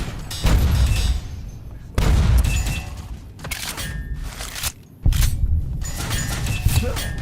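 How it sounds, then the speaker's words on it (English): Rockets fired in a Mojave-set video game produce loud booming blasts that hit in three separate bursts, each rolling off into rumbling noise. "Oh my god, who's shooting rockets?"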